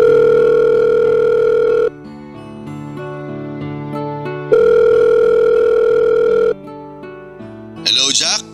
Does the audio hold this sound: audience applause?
no